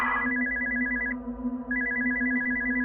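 Telephone ringing inside the horror video game Spooky's Jumpscare Mansion: a steady electronic trilling ring in two bursts separated by a short pause, loud and clear over a low droning background hum.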